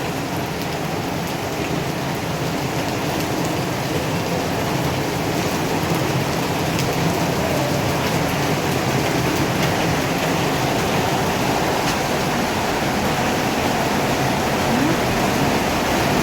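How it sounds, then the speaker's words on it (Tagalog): Heavy typhoon rain pours down in a dense, steady roar that stays loud and unbroken throughout, with no speech. "Lalo niyang nilalakasan ang buhos ng ulan."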